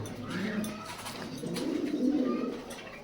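Pigeons coo softly and repeatedly nearby, low rolling calls rising and falling over a few seconds in a quiet setting.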